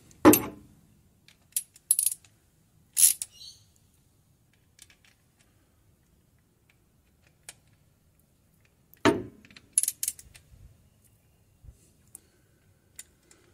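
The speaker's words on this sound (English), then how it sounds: "Okay, I'll go ahead and get that tightened up." Nuts being tightened on the water pump of a 1995 Holden Rodeo: scattered ratchet clicks and short metallic taps in small bursts, separated by long quiet pauses.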